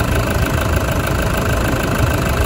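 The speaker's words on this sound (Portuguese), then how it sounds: "vai gostar de ouvir o barulho desse motor, né?" An MWM engine in a used pickup truck idles close by with a steady, dense drone and a faint knocking rumble. The sound holds unbroken throughout, and no one talks over it.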